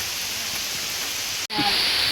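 Steady hiss of rain fills the scene, briefly cut off by a dropout before resuming with a faint voice underneath.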